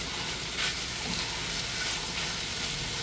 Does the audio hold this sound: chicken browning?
yes